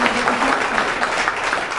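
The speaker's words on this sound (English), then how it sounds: "please give us a really warm, loud round of applause" A brief, loud burst of warm applause from an audience at a wellness talk, a thick continuous wash of clapping with no gaps.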